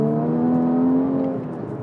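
Porsche 981 Cayman GTS with manual gearbox, its engine holding a steady, loud drone close by, the tone rising slightly then easing off near the end, with no voices over it.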